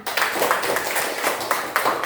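Children clapping together in an Indonesian classroom, a short run of quick, fairly even claps with a few sharper accents, close and moderately loud.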